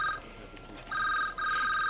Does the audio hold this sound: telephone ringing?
yes